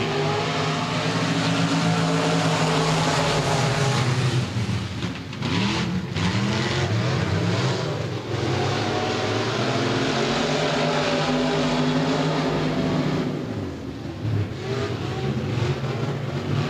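Several race cars roar and accelerate together at the start of a USRA Southern Nationals race at Boothill Speedway, a loud, sustained engine drone with rising and falling pitch as the pack passes.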